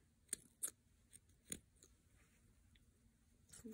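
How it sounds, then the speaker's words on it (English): Dull scissors snip yarn during a crochet bunny project, giving a handful of separate, close crunchy cuts spaced irregularly against a quiet room. "dull scissors"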